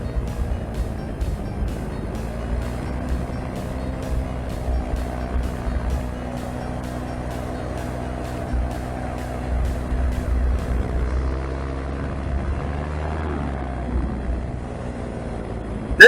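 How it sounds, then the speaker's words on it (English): A paramotor engine drones steadily in flight near an off-road ATV park by a river, a continuous buzzing hum at moderate volume that softens and shifts in pitch toward the end. "oh wow, there's a paramotor right there."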